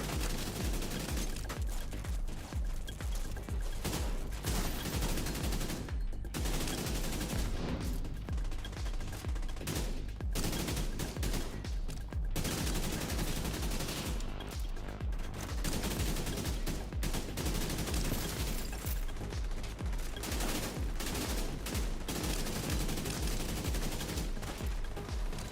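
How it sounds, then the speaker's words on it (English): Sustained gunfire fills a shootout in The Division 2, rapid automatic bursts and single shots repeating densely with barely any pause. "I want to be able to stay shooting here."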